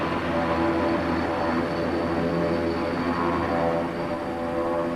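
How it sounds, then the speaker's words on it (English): Blackburn Buccaneer jet taxiing on the deck of the carrier HMS Ark Royal in 1974, a loud, steady turbine roar with a high whine that holds at close range throughout. "First Buccaneer taxis out behind for the bow catapult."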